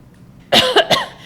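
Three sharp coughs in quick succession, close and loud, over faint background hiss.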